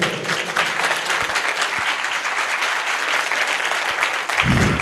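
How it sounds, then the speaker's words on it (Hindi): A church congregation at a mission gathering in Ludhiana stands and applauds, a loud, steady ovation of clapping that fills the space, with a brief low thump near the end. "एक अच्छी ताली, खड़े खड़े।"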